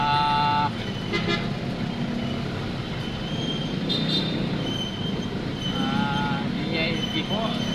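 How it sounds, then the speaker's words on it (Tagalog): Heavy traffic on EDSA with car horns, dense road rumble and engine noise with several short horn toots and squealing, someone talking over it. "Napaka-traffic po dito kayo sa EDSA."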